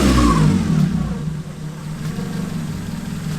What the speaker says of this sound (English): It'll come right back down to 650 after you rev it.